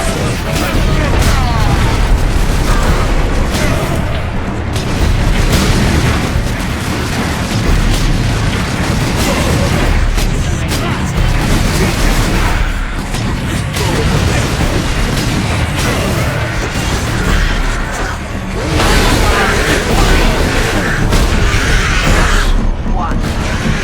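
Weapons fire nonstop in the video game Space Marine, with heavy booms, bursts and explosions packed into a loud, dense barrage. Voices talk over the gunfire.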